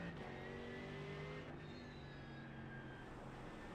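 Race cars in a rainy sim racing game roar along with a steady, droning engine hum and faint tyre spray hiss, one pitch shifting slightly as a gear changes, continuous and quiet.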